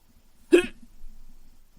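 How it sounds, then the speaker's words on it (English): A single sharp hiccup, close and abrupt, followed by a faint breathy exhale with nothing else around it. "Goddamn hiccups. One more hiccup and I'm gone."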